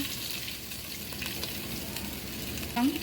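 Bay leaf, garam masala, cardamom, cloves, chopped onion and green chillies frying in white oil in a pot make a steady, close sizzle with faint stirring scrapes and a brief clink near the end, no voices.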